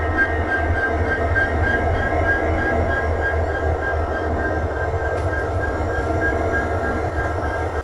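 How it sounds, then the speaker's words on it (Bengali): A passenger train stands at a station on the route from Dhaka toward Agartala, its idling engine giving a steady low rumble and hum with a faint high whine, close and continuous, with no talk. "এই হচ্ছে আমাদের পুরো ট্রেন।"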